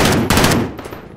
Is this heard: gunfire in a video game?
yes